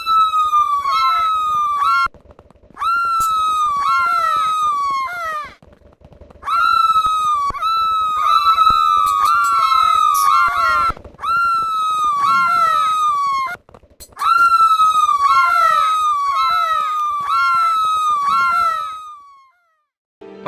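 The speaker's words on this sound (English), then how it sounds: "there was this god-awful nuke sound" A nuke alarm in Hypixel Minecraft paintball wails as a loud, repeating siren of rising and falling tones, sounding in bursts with brief gaps between them.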